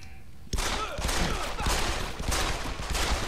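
A sudden burst of rapid video game gunfire from Deus Ex: Human Revolution erupts after a quiet moment, sharp cracks and booms repeating in a loud, chaotic volley.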